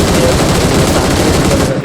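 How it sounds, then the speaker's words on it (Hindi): Dense, loud video game gunfire rattles continuously in a steady burst of overlapping shots, close and unbroken for the full stretch. "और देखो मैंने फायरिंग की"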